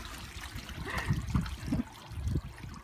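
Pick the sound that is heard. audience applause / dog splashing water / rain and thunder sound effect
dog splashing water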